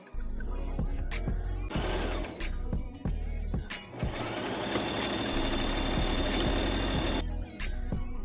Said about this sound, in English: sew a straight stitch down the side